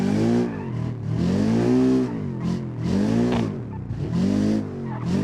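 An engine revs hard in BeamNG.drive as a damaged car crab walks across a wasteland, with loud rising and falling revs through repeated gear changes and steady tyre noise, close and continuous.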